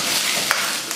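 Diced chicken and scallions tossed in a hot wok for Kung Pao chicken, heard up close: a steady, loud sizzle with a couple of quick scraping stir strokes.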